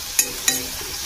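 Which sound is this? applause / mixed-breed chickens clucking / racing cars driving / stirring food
stirring food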